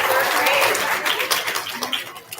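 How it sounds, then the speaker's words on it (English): An audience at an elementary school student recognition bursts into applause that quickly thins out, with a voice speaking as the clapping fades. "Give them a round of applause."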